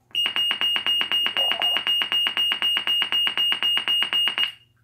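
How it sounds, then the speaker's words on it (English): A Federal Signal SelecTone 50D siren sounds a fast, steady train of loud, high electronic beeps, about two dozen even pulses in under five seconds, then stops abruptly. "Kind of sounds like an old school smoke alarm, to be honest."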